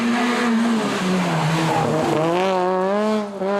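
A Peugeot 206 rally car, racing in a one-make cup series, loses grip on a damp patch of asphalt. The engine drones loud and close while the tires squeal and skid, with the pitch wavering and then rising.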